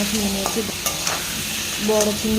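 Potatoes and pointed gourd fry with salt and turmeric, crackling in hot oil as a utensil stirs and scrapes against the pan in a few short bursts, close and fairly loud.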